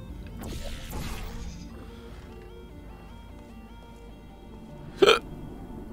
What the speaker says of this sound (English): Yeah, hiccups. Those are great.